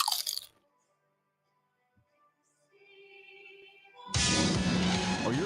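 Crunching bite of Diefenbach's potato chips in a radio advert: a loud, dense burst of crisp crunching near the end, after a brief sharp crackle at the start and a quiet musical stretch.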